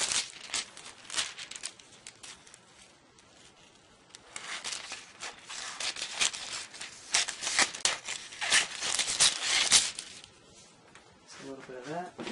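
Scissors cut and crinkle gold holographic foil up close, a dense run of crisp snipping and rustling crackles with brief pauses between bursts; a voice talks faintly near the end.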